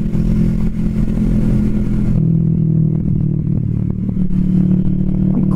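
A Kawasaki Vulcan S 650 Cafe ABS motorcycle is being ridden, its engine a steady low hum under wind rush, which drops away partway through and leaves the engine note clearer and smoother.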